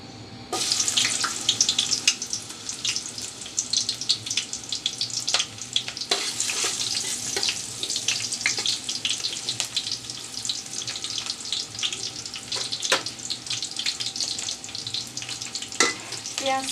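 Chopped onion fries in oil for a Katla fish curry, giving a dense, continuous sizzle with crackling pops and short sharp scraping clicks throughout, loud and near, with no voices.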